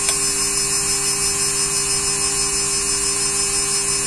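A CNC spindle motor driven by a VFD at 400 RPM hums with a steady, high-pitched electric whine, loud and unchanging throughout.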